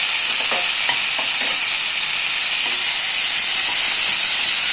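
Onions and tomatoes with salt sautéing in a pan for kudal (goat intestine) gravy, a steady loud sizzle and hiss with a few soft stirring clicks throughout, no voices.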